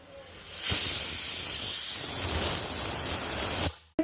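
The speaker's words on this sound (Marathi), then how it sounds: "कुकरची शिट्टी झाली आहे" A loud, steady hiss of escaping steam from a pressure cooker whistle runs for about three seconds, then cuts off abruptly.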